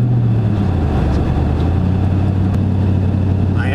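A 2001 Ford F150 pickup with newly welded straight pipes drives along, its engine a loud, steady low rumble heard from inside the cab without pause.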